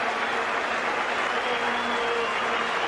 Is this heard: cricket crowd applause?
yes